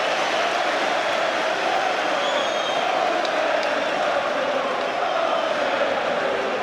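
Football crowd at Highbury during Arsenal versus Tottenham applauds a goalscorer stepping up for a corner, a broad continuous wash of clapping and crowd noise, steady and sustained with faint whistles above.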